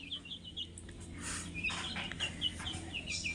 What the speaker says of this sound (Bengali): তিনটা মুরগি, একটা মোরগ।